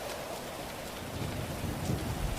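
Rain with rumbling thunder in the video game GTA V, a dense steady hiss of falling rain over a low rolling rumble that swells slightly toward the end, with no voices.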